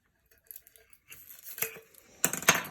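Small scissors snip through the sublimation wrap seams on a 20oz tumbler, a few quiet close clicks and crinkles building into denser snipping toward the end.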